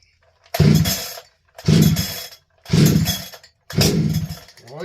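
A donated chainsaw, fuelled and oiled with the choke set, is pulled over and over: four loud, close bursts of motor sound, each about a second long, with short silences between the pulls.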